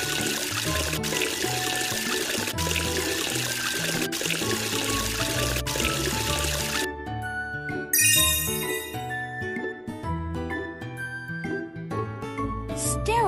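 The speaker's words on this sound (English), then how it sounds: "Use water to wash off the bubbles." Water rinses soap bubbles off a garbage truck in a cartoon, a steady pouring rush that gives way to tinkling, chiming sparkle effects and light bubbly trickles.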